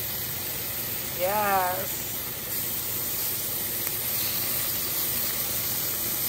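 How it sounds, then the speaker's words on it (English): Turkey bacon sizzles in a cast iron pan with a steady, close hiss throughout. A person briefly speaks a single word near the start. "I'm just putting some turkey bacon in my pan."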